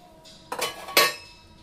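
A pressure cooker pot is set down on a stove in a kitchen, giving two clear metallic clanks about half a second apart, near and fairly loud, with a faint high ring trailing after each knock.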